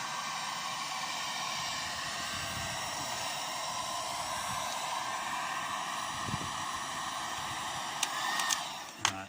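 A hair dryer blows a steady, loud rush of hot air onto the radiator of a Massey Ferguson Cerea 7274, holding an even whoosh throughout with a couple of brief knocks near the end.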